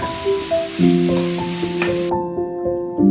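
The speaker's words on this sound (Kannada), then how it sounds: "ಅದನ್ನು ಅದ್ರ ಜೊತೆ ಹಾಕಿ ಮಿಕ್ಸ್ ಮಾಡಿ ಬಾಡಿಸ್ಕೊಳ್ಬೇಕು ಸ್ವಲ್ಪ" Fried okra and tomato sizzle in a pan while a spoon stirs and scrapes, sautéing for a village-style ladies finger gojju; steady crackling frying with clinking stir strokes and tonal ringing, no talk.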